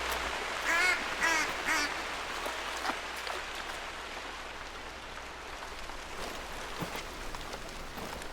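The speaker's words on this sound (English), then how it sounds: "Where's that duck? Oh, there it is." A duck in theHunter: Call of the Wild gives a short burst of three quacks early on, fairly faint against a steady rain-like outdoor ambience that continues alone afterward.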